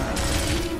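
Rapid gunfire rattles through a firefight in Gears of War, a dense, loud burst of shots lasting under a second.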